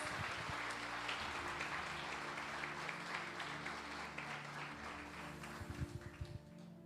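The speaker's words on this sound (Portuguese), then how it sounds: "as palmas são para Ele." Church congregation clapping after a sermon, a dense wash of applause at a distance that thins toward the end, with a few louder nearby claps and a low hum beneath.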